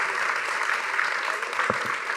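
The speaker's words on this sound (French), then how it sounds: "On les applaudit bien fort." Audience applause at a live French quiz-style event, a steady dense wash of many hands clapping that fills the whole moment at moderate loudness, with no voices over it.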